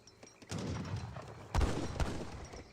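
Sharpshooter gunfire in the real-time strategy game Age of Empires 3, with scattered volleys of shots in quick succession, moderately loud over a battle backdrop, no voices.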